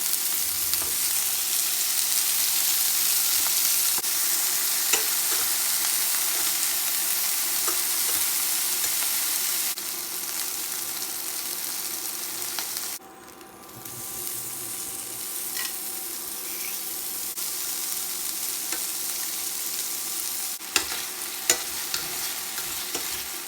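Beef steak sizzles and fries steadily in a pan with vegetable oil, a dense continuous crackle that stays loud and close, briefly dipping midway before picking back up.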